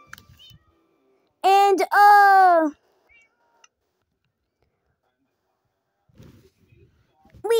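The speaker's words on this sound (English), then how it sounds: "We will tame the black cat" A black cat in the video game Minecraft gives two drawn-out, tonal meows back to back, loud and near, then near silence apart from faint soft sounds and a brief spoken word.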